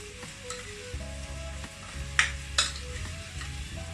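Grated sweet potato stirred around a frying pan, with steady sizzling, scraping spoon strokes, and a couple of sharper clinks, close and without talk. A low hum runs underneath.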